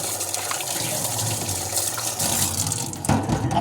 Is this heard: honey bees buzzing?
no